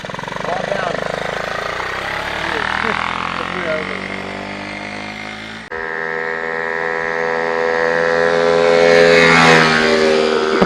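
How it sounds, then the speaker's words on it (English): A 1977 Honda Z50 small motorcycle engine revs and idles with a buzzy, pulsing tone that rises in pitch and holds steady, fairly close, with people talking over it. "he's revving that thing and moving back"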